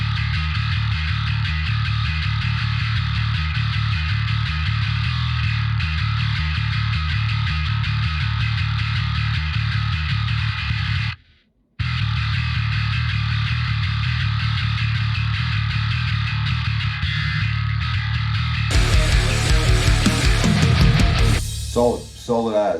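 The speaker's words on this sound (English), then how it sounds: "I'm really loving this new bass, the Ibanez I got. Really pumps out the bass tones." A distorted Ibanez electric bass plays a steady repeating riff through an amp, briefly cutting out halfway, then resuming with a busier, grittier passage.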